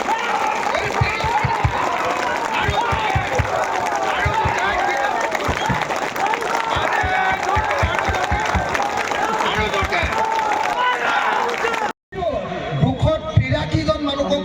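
Crowd applause at a political rally, dense loud clapping with crowd noise running steadily, then a sudden cut near the end followed by brief murmur.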